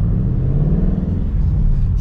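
A Ford Mustang GT convertible's V8 rumbles steadily at a cruising pace, a deep, loud and continuous engine drone heard from inside the open car, with no one speaking.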